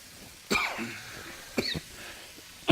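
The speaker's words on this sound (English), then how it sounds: "So if I sneeze a little bit or cough, it's because the chili's getting to me." A few separate coughs from chili fumes while cooking masala, close and moderately loud, spaced apart with quiet in between and another starting at the end.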